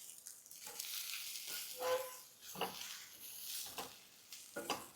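Namkeen chawal rice being mixed in a hot pan makes a soft continuous sizzle with repeated scraping strokes of a spoon against the pan, close but faint.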